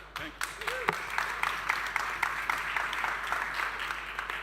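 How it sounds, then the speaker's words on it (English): An audience claps after a talk at a 2023 conference innovation stage, fairly faint but steady applause sustained for several seconds, with a brief bit of voice near the start. "Applause for Phelas"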